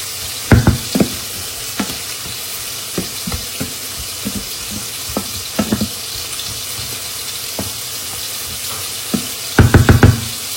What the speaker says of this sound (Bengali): বেগুন ভেজে ফেলছি, টমেটোটাও ভাজি হচ্ছে